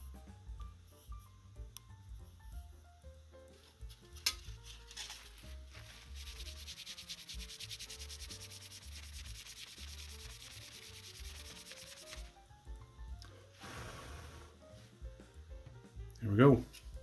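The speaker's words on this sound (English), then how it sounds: "we'll use something plastic to scrape that off" Plastic scrapes old thermal paste off a CPU in quick, faint rubbing strokes, close and dry, with a brief louder scrape near the end.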